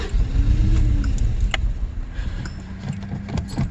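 A 1986 Subaru engine cranks and rumbles loudly up close, then settles into a rougher, fluctuating idle with scattered clicks and knocks.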